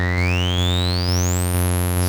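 Body Synths Metal Fetishist percussion synthesizer with its low-pass filter resonance pushed to maximum: a loud, buzzy repeating tone with a whistling resonant sweep gliding steadily upward, punctuated by regular retriggered hits.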